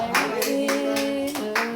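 A church congregation claps in praise during worship, several bursts of hands in a steady rhythm over sustained music tones, fairly loud and close.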